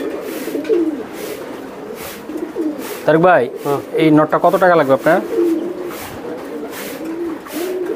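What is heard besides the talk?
racer pigeons cooing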